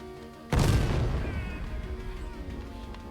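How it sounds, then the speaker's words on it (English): A frag grenade detonates in No More Room in Hell 2, one loud, close boom that hits suddenly after a quiet moment and rolls off into a long rumbling decay. "Pretty big explosion radius, will blow up pretty much everything you want it to"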